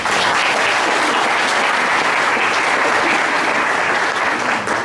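Dense, steady applause fills a room for candidates at a mayoral candidates forum in Cramerton, sustained and evenly loud throughout without a break.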